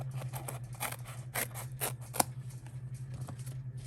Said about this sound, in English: then I'm going to cut this one down as well